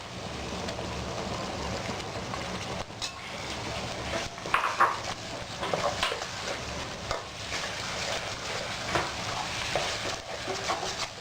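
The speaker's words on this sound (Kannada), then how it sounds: "ಸ್ವಲ್ಪ ಸಾಫ್ಟ್ ಆಗೋವರೆಗೂ ಇದನ್ನು ಫ್ರೈ ಮಾಡ್ಕೊಳ್ಳಿ" Tomatoes frying in a pan for chicken kabab biryani, with steady low sizzling and occasional stirring scrapes and utensil clinks against the pan, close by and without talk.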